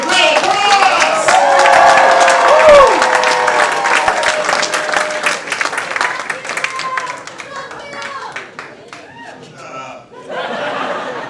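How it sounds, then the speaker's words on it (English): An audience at an improv comedy club in West Palm Beach claps and cheers loudly for a comedian. The applause is dense and close, with scattered laughter and chatter. It thins out toward the end as a voice comes in. "thanks for the round of applause"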